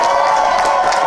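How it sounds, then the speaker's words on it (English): Audience cheering and applauding at a launch party and Black History Month celebration, a loud, dense burst of crowd noise with shouts over clapping that lasts about a second. "give a big round of applause for my first granddaughter, Miss Tamiria"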